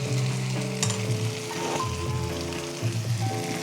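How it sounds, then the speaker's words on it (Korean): Tomatoes stir-fried in an oiled pan for a tomato-and-egg dish sizzle and crackle steadily, with occasional scrapes and stirring knocks from a utensil, close and continuous, no voices. "뭉개지는 느낌이 들 때까지 살짝 볶아줘."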